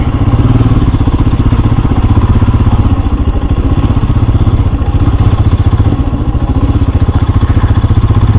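Royal Enfield Himalayan motorcycle on a narrow green lane, its single-cylinder engine chugging loud and close in a steady rapid thump with some clatter, little change in pace throughout, no talking.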